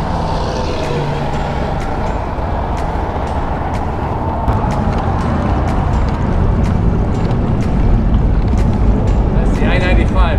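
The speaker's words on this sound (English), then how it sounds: "so you can hear this highway noise" Heavy highway traffic on the I-95 overpass rumbles from above a kayak on Florida water, a broad steady roar of cars and semis that swells slightly toward the end, with no voices.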